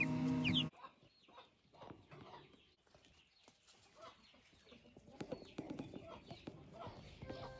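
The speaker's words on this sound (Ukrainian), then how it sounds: "Дуже гарні квочки ці курочки, турботливі такі матусі." Broody hens clucking softly in a backyard chicken coop, scattered low clucks and rustling, with people talking nearby and a brief louder burst at the start.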